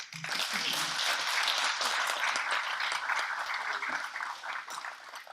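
An audience at a southwestern Ontario green-technology funding announcement breaks into sustained applause, dense clapping for about five seconds that thins slightly toward the end.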